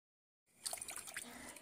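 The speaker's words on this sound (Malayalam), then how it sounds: "കപ്പയിലെ വെള്ളം ഊറ്റി മാറ്റിയെടുക്കണം" Water drains off boiled tapioca after a short silence, a light close splashing and trickling that continues steadily to the end.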